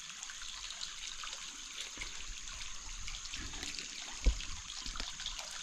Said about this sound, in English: I'm sitting by this wonderful little creek here in Bones Valley